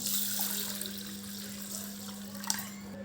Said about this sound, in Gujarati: દાળ બનાવવા માટે અમે એક વાટકી છોડા વગરની અડદની દાળ લીધી છે એને સારી રીતે આપણે ધોઈ કાઢવાની છે